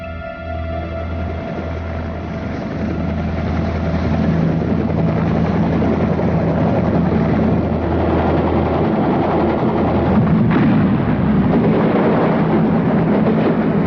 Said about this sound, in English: Helicopters approaching.